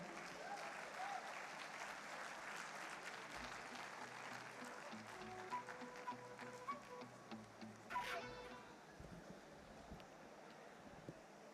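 An audience at an evening company event applauds to welcome the co-founder and CTO on stage, with a dense continuous patter of clapping and faint music underneath, heard from some distance.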